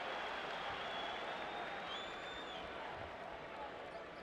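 A basketball arena crowd at a 1999 Clippers at Knicks NBA game in New York applauds and murmurs, a steady, distant wash of clapping and crowd noise.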